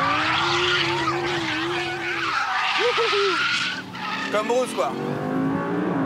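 Audi R8 V10 Plus engine and active exhaust revving loudly while driving, with pitch rising and dropping through gear changes and brief tire squeals, close and dominant, with someone talking over it.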